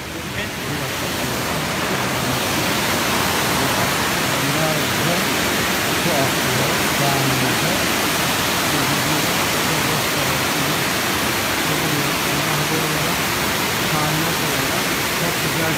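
Spring water gushing out of rock at its source, a steady, loud rushing roar of flowing water that fills the whole scene without pause.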